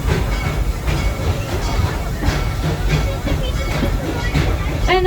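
The Busch Gardens park train in Florida rolls along its rails with a steady, close rumble and repeated clickety-clack wheel beats, plus a faint hiss, continuous throughout.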